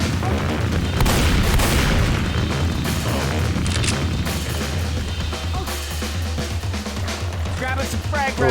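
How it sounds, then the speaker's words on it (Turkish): Explosive ammo rounds bursting in the zombie shooter Left 4 Dead 2, a chaotic stretch of loud booms and crashing blasts layered over game noise, with talk mixed in. "O patlayıcı mermi bulmamız güzel oldu"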